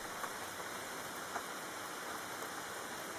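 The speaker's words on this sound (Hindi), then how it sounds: "बाहर फिर से हल्की बारिश शुरू हो चुकी थी।" Light rain falls outdoors at night in a neighbourhood, a steady, soft, diffuse hiss with a couple of faint drop ticks, fairly quiet and continuous with no voices.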